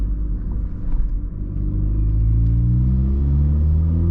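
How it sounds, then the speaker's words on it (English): A Volkswagen Polo made to look like a GTI accelerates hard in second gear, a deep in-cabin engine rumble that rises steadily in pitch as the revs climb, loud and continuous with no voices. "Didn't expect it to be this aggressive on the second gear pull."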